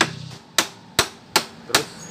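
A hammer taps the camshaft of a Yamaha Mio M3 scooter engine head, six sharp metallic strikes at a roughly even pace, close and clear with short ringing decays.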